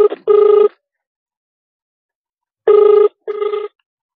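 A phone ringback tone sounds through a call being dialed, two double-pulsed electronic rings separated by a long silence, clear and close.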